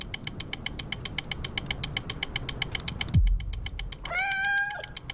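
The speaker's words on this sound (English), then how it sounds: "Kitty." A single clear cat meow rises near the end of a trailer for the game Road to Vostok, after a steady, rhythmic mechanical rattle and whine and a deep low thud.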